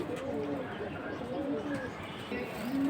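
Domestic pigeons of assorted breeds cooing nearby in a loft, soft repeated throaty coos over a constant background hum, with faint voices in the background.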